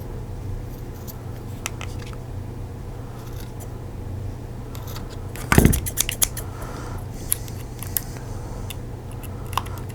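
Scissors trimming the mesh coil of a vape rebuildable tank atomizer, a single sharp close snip with a few faint clicks after it, set against a steady background hum.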